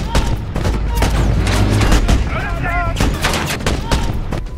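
Gunfire in an armed clash with militants: dense, loud bursts of rapid shots and cracks in quick succession, with a brief whistling tone in the middle and heavy rumbling underneath.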